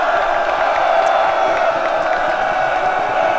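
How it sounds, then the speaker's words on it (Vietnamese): A studio audience on a television talent show cheers and applauds for a young boy, a dense, steady wall of crowd noise that holds at full strength without pause. "Một tràng pháo tay dành cho bé An Khang."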